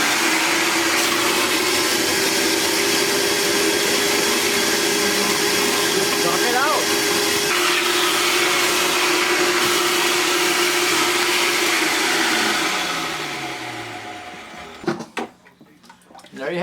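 Shop vacuum running as a blower to mix 2:1 sugar syrup in a 55 gallon drum, a loud steady roaring whine that drops in pitch and winds down near the end, followed by a few knocks.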